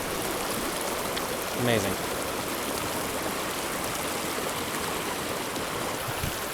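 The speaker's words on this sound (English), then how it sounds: "What a gorgeous, gorgeous creek." A mountain creek runs steadily in the background during a tenkara fishing outing, a broad constant rush of water with a brief spoken exclamation over it.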